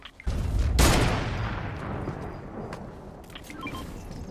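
A burst of gunfire in the Fortnite video game, close and loud, with a long reverberant tail that slowly fades. Faint scattered sounds follow, and no one speaks.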